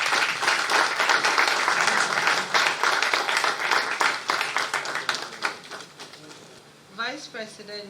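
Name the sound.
audience applause welcoming a speaker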